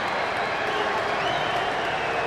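A Dodgers stadium crowd at a 2008 Rockies game roars steadily as Manny steps to the plate, a dense, constant wash of cheering and scattered clapping with broadcast commentary layered over it.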